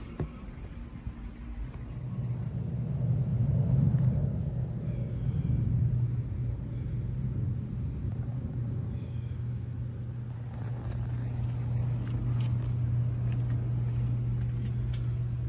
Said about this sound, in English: Pump motor running.